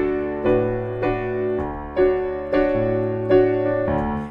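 Piano plays the melody of a song, with clear sustained notes and chords changing about every half second, solo and close.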